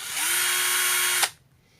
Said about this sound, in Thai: ใช้สว่านหมุนอย่างนี้ปึ๊บนะหัวน็อตก็จะหมุน